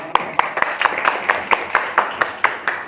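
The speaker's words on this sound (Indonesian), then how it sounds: "Tepuk tangan." Classroom applause for teachers: rhythmic group clapping at a steady, fairly even pace, moderately loud and close, continuing for a few seconds with no voices over it.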